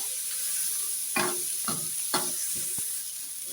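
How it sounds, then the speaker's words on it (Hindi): Cabbage and bell pepper tipped into a hot frying pan, giving a steady close sizzle with several sharp bursts and stirring scrapes as the vegetables hit the oil. "अब ये बंद गोभी और शिमला मिर्च बस एक साथ डालते हैं"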